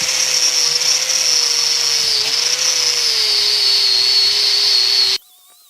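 A polishing wheel runs against a forged one-piece Bowie knife with a loud, steady high-pitched whine and grinding hiss that holds constant, then cuts off abruptly near the end.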